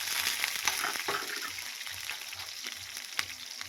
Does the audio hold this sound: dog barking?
no